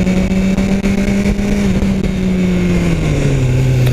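A BMW S1000 R motorcycle being ridden, its engine a loud, close, continuous drone whose pitch slowly sinks toward the end, with no voices over it.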